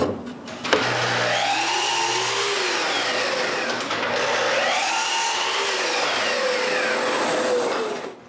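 Power saw whining steadily through small pieces of wood in a workshop while building a ten-drawer rolling cabinet, with continuous loud cutting noise swelling and easing across two cuts, no talking.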